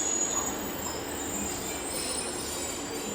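A train rolls steadily through Exeter St Davids station, with sustained wheel squeal and rail rumble at close range, loud and continuous, with no voices.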